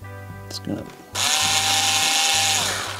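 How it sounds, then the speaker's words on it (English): After a moment of low hum and small knocks, a power drill starts up and runs continuously, a loud, bright grinding whine cutting into plastic like a router. "more or less using the drill like a big old router"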